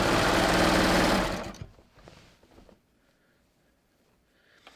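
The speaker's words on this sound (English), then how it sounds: "So I'm just sewing my second crotch seam here." A sewing machine runs loud and close along the crotch seam of leggings for a little over a second, then stops, leaving faint handling noises.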